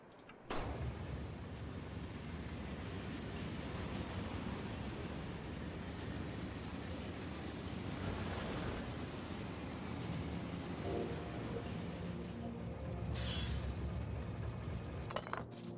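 A train rolls on rails in the video game Factorio, a dense continuous clatter and rumble with a brief sharp burst near the end, steady and fairly loud with no talk.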